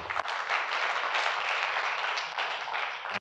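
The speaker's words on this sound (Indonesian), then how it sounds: "Dan lu udah mulai tepuk tangan lagi buat lu ber-40." Presentation audience applauding for about three seconds, a steady dense wash of clapping that stays loud throughout and cuts off abruptly at the end.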